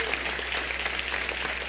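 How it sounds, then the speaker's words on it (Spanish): Congregation applauding in a church during a sermon, a dense steady wash of clapping with a low hum underneath, fairly distant and even throughout. "¿Cuánto le damos un fuerte aplauso al Señor?"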